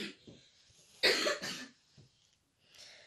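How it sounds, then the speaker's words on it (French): A person coughs nearby, a faint cough followed by a louder burst of two or three harsh coughs in quick succession, then quiet breathing and a softer cough trailing off. "la toux, elle ressemble beaucoup plus à la mienne, ça évolue dans le bon sens"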